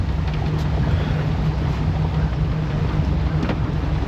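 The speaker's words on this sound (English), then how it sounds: "It's very, very windy." Strong, steady wind roars across the microphone in a continuous, loud rumble with no letup, a low hum running underneath.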